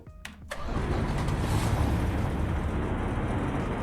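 A car engine in a racing video game cranks briefly with a couple of sharp clicks, then catches and settles into a loud, steady, rumbling idle that continues alone.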